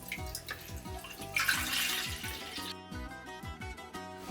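Water is poured for pickle brine with a light splashing trickle heard faintly under background music, brief and nearby.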